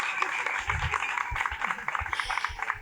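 Applause for a Vila-real band at a children's graduation ceremony, moderate crowd clapping with a rapid patter of hands, some individual claps standing out and brief voices mixed in.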